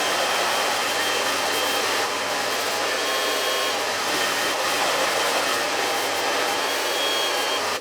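A hair dryer blows steadily and loudly while drying a freshly cut U-shaped haircut, a continuous airy whoosh with a faint motor hum that runs unbroken for nearly eight seconds before cutting off abruptly.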